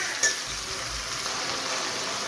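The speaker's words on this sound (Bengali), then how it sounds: "এই যে আমি মশলাটা ভালো করে কষায় নিতেছি।" Red meat sautéing in a pan with onion, onion paste and ginger-garlic paste, a steady crackling sizzle with soft stirring scrapes throughout, close and continuous with no talk.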